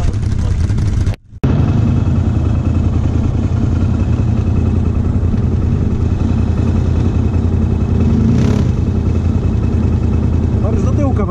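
A motorcycle engine runs steadily and loudly throughout, holding a constant half throttle with a brief cutout early on and voices faintly underneath.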